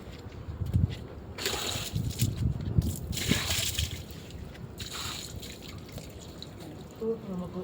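Water sloshes and splashes from a bucket while a yard is cleaned in Saudi Arabia, irregular wet splashes and slaps up close, with moderate loudness and some faint background activity.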